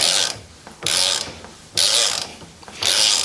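A wrench ratchets as the back is worked off an Ohlins TTX 36 shock, giving loud, rasping clicking strokes in four bursts with short pauses between them, close up and with no talk.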